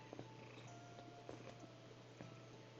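A cat purring, a faint, steady low rumble with soft rhythmic pulses running throughout.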